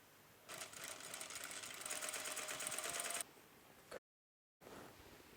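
A sewing machine stitches along raw fabric edges sandwiched together, running in a steady, continuous whir for a few seconds before stopping abruptly; after a brief silence the quieter background returns.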